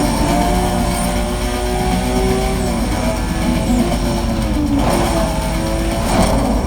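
Police helicopter in the Need For Speed: Most Wanted video game, a steady rotor and engine drone with a droning car-like whine that runs loud and continuous throughout, with no talking.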